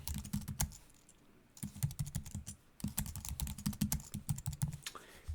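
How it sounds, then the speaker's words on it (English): Fingers type a password on a computer keyboard, close and fairly quiet: rapid clicking keystrokes come in three bursts with brief pauses between them. "So I'm going to go ahead and type something in."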